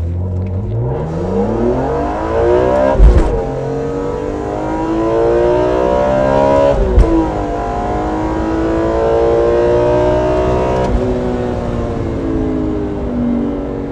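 A BMW E46 M3 with a Borla exhaust revs repeatedly, its engine note climbing and falling in several loud, sustained pulls, with sharp pops between them and no voices.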